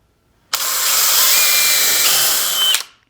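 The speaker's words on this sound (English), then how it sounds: "I'm going to pre-drill and then put those screws in there." A power drill pre-drilling wood whirs loudly for about two seconds, its pitch dropping slightly near the end before it stops.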